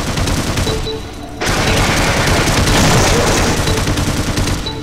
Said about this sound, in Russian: Да, ребята, это турель.